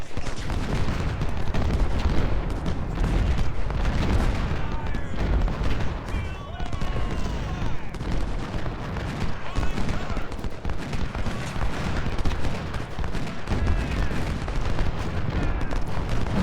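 Musket volleys crackle steadily through a Civil War battle in Ultimate General: Civil War at First Bull Run, a dense, continuous barrage of overlapping shots and booms with no break, loud throughout.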